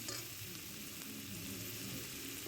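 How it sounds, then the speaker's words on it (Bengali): Onions fry and are stirred in a pan, giving a steady, dense sizzle with occasional scraping from the stirring throughout. "একটু নেড়ে চেড়ে ভেজে নিলাম"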